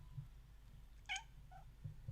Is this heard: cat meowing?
yes